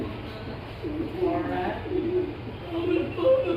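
A pair of racing pigeons at a pigeon farm coo softly and close by, giving a few low, rolling calls over a quiet background.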